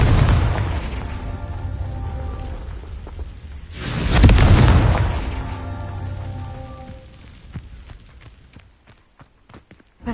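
A fire spell bursts in Hogwarts Legacy with a loud booming explosion midway, surrounded by crackling magical rumble and followed by scattered sharp clicking debris fading out to near silence.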